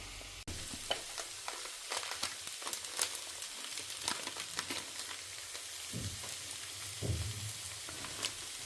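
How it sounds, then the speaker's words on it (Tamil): Boiled potatoes sautéing in a home kitchen pan, a steady soft sizzle with scattered scraping and stirring clicks, near and continuous with no talk. "வேக வச்சுட்ட உருளைக்கிழங்கு, இது நல்லா வதங்கட்டும்."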